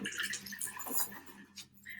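A small container is rinsed under running water after emptying out calcium chloride, giving brief splashing and dripping sounds at close range.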